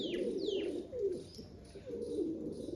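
Pigeons kept at a home loft coo in soft, low, repeated rolling calls close by, with a few thin higher chirps overlapping.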